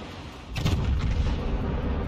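A heavy battleship gun salvo booms in the World of Warships naval game, a single loud deep blast that rolls on into a sustained rumble, with no voices.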